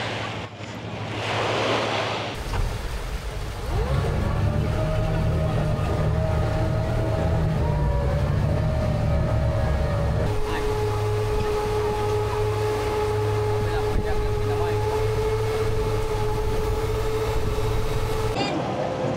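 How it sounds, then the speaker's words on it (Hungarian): A tour boat's engine drones at the Phi Phi islands in Thailand, a continuous low hum with tonal whine under wind buffeting and sea noise, while voices talk nearby. "És akkor ez a mi hajónk, ezzel jöttünk, már szállnak fel."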